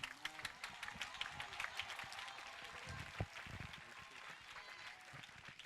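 A congregation at a Sunday church service claps and applauds in praise, a dense continuous ovation with cheering voices mixed in, fairly distant and steady throughout.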